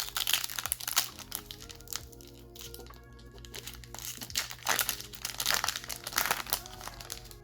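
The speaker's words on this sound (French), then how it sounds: "on va commencer l'ouverture. Et c'est parti avec le premier booster" A Yu-Gi-Oh booster pack wrapper is torn open and crinkled by hand at close range, with bursts of crackling plastic, a brief lull midway, then more crinkling and rustling, and no voices.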